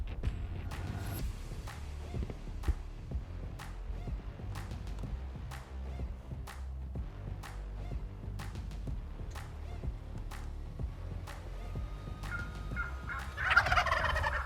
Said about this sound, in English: a second tom is headed their way